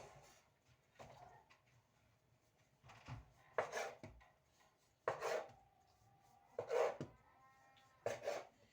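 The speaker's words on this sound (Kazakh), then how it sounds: "Енді осыны майда бөлікке бөліп аламыз." Knife or scraper cutting risen pizza dough into small equal pieces on a board, about six soft separate chops and scrapes spaced a second or so apart, quiet and close, no talking.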